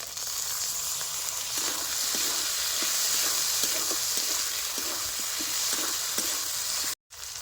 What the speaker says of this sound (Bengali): এবার কাটি ধরা টমেটো দিয়ে দেবো